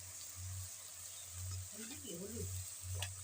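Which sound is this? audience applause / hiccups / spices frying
spices frying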